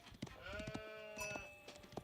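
Sheep bleat in Age of Empires IV, a few short nasal calls with wavering tone over a steady game background, with thumps and clicks between them.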